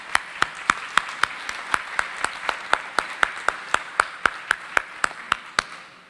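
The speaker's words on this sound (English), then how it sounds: "Let's give them a round of applause." Audience applause at an evening community talk about Dutchtown and Old Lincoln School, heard as a steady, evenly spaced run of sharp claps, about four per second, for six seconds with no talking.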